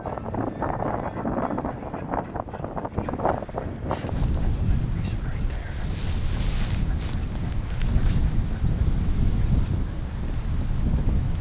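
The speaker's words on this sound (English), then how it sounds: "because at this point the wind picked up quite a bit" Strong wind buffets the microphone in cold open country during a bison hunt, a continuous roaring rumble that grows heavier and gustier partway through.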